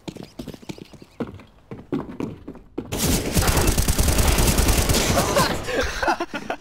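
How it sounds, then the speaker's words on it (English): Gunfire in a video game: after quieter thuds and clicks, a loud, dense burst of rapid shots fills the second half of the clip, with no clear talking during the firing. "Stop shooting me!"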